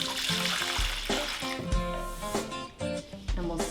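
Warm water and yeast being stirred in a bowl with a wooden spoon, wet swishing and sloshing with soft knocks of the spoon against the bowl, fairly close and continuous.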